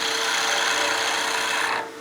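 A skew chisel's point cuts wood spinning on a lathe, giving a steady, dry rasping hiss for nearly two seconds before it quickly tails off.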